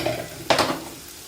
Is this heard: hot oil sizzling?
yes